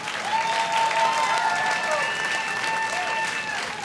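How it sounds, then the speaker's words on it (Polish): Concert crowd at the Metropolia Jest OK festival in Gdańsk clapping loudly for a band's fifteenth anniversary, a dense continuous wave of applause with a few whistles and crowd noise mixed in. "proszę o ogromne brawa"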